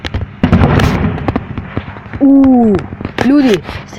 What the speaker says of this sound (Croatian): Ljudi, ste čuli petardu?